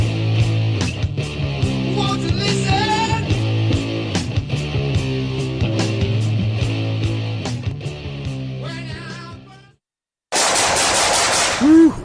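Automatic AK-47 gunfire in a commercial, long sustained bursts of rapid shots over a musical soundtrack, with a short silence and then a brighter noisy passage at the end.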